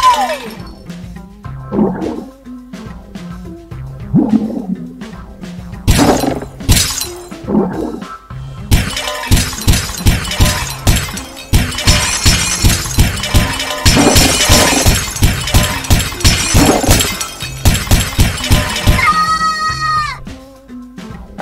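Glass blocks shattering in the retro video game Pig Eat Ball, with bursts of bright crashing and tinkling breaks over bouncy game sound effects and tones, loud and dense in the second half.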